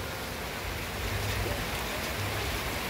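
Rain falls steadily on an outdoor site where a metal sand-coated roofing sheet has just been fitted over a colony animal cage, producing a continuous, even hiss with no clear individual drops.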